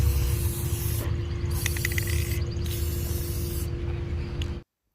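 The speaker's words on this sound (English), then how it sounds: "I am going to spray paint the edge using this metallic golden tone by Rust-Oleum" Steady hiss of Rust-Oleum metallic gold spray paint sprayed outdoors onto the edges of a tray, a close continuous spray with brief pauses over a low hum, cutting off abruptly at the end.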